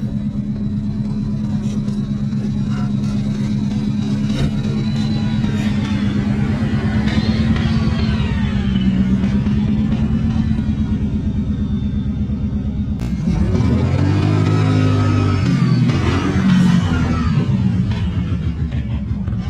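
An ATV lifted three inches on Elka shocks rumbles steadily while riding, its engine droning close and loud throughout, with shifting tone and a rougher burst of throttle near the end.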